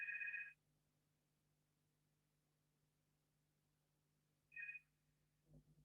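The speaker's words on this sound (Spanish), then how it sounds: "Está sonando el teléfono." A telephone rings in a quiet room at the close of an online law class, with two short bursts of ringing separated by a long pause over a low steady hum.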